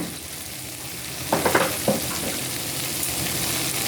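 A vegetarian cauliflower curry sweetened with jaggery sizzles steadily in a pan, with a few brief stirring scrapes partway through and no voices.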